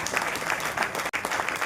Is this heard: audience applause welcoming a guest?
yes